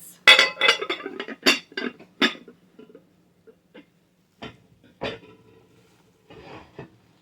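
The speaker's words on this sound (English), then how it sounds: "They had this Corningware dish." A Corningware casserole dish clinks and clatters in a burst of sharp ceramic knocks as it is handled, then a few sparser taps and scrapes, close and loud, with no talking.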